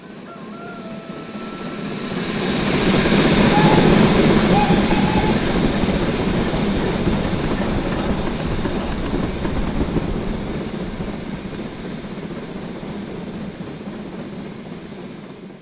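An LBSCR E2 steam locomotive running in Train Simulator, a broad rumbling rail roar that swells up over a few seconds and then slowly fades as the locomotive rolls along, with faint rhythmic track noise and no distinct talk.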